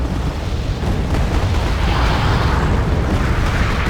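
Dense, continuous rumbling barrage of artillery explosions in the Wargame AirLand Battle video game, loud, with overlapping booms and no clear gaps.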